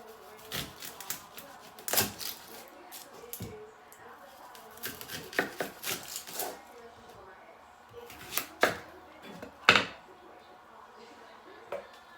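A knife chops onions for Puerto Rican sofrito, sharp irregular cutting knocks against a board at close range, under intermittent talk.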